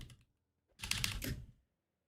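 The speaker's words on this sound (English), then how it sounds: "I didn't mean to slam the keyboard there" A computer keyboard struck hard during a game of Noita, giving one faint brief tap and then a dense clattering burst of keys lasting under a second, close and alone.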